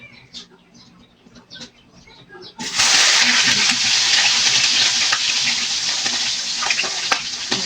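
After a few quiet seconds of faint clatter, a loud sizzle of milkfish dropping into hot oil erupts and continues as a steady crackling hiss.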